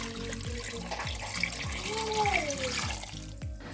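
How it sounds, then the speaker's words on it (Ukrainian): Water poured from a tap into a Moulinex CE430A34 multicooker bowl, a steady close splashing stream with a rhythmic low knocking underneath and a faint voice at times. "Наливаю сюди воду."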